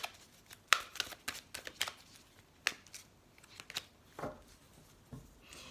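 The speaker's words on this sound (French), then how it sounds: "j'ai tiré une dernière carte" Tarot cards are shuffled and drawn from a deck in a run of close, crisp flicks and slaps of varying loudness, with no voices.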